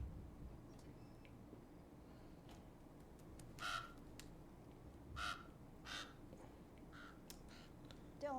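Several loud crow caws ring out at irregular intervals in a Game of Thrones episode over a steady low background hum, some close together and some spaced apart.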